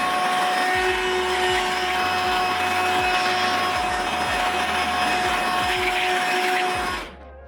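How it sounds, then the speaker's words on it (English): A spare Hoover vacuum cleaner runs steadily while it cleans the brush of a Jimmy JV35 vacuum, giving a loud, constant whine and rushing airflow that cuts off abruptly near the end. "so you can clean that with a hoover"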